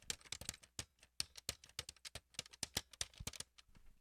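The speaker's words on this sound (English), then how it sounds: "Just listen to how clicky and clacky these keys are." Clicky, clacky computer keyboard keys are typed in quick, uneven bursts, many sharp taps close to the mic at a low level, with no talking.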